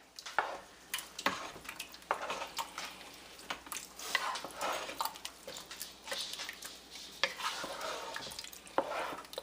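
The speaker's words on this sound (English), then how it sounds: "We'll give that a stir." A spoon scrapes and stirs through a pot of chicken chili seasoned with salt and black pepper, the wet, clattering strokes coming in an uneven rhythm close up and alone, with faint sizzling beneath.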